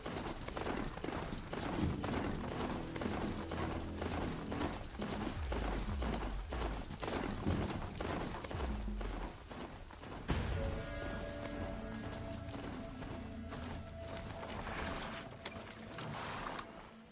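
A hoofed machine creature in Horizon Zero Dawn running, a rapid rhythmic clatter of metallic hoofbeats mixed with mechanical whirring and clanks, fairly faint, continuing throughout with a brief shift midway.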